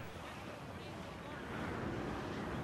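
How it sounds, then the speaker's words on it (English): Steady, loud wind blows continuously in the pirate sailing game Assassin's Creed Black Flag, with a broadband rushing wash like open sea and gusts building slightly toward the end. "Very windy."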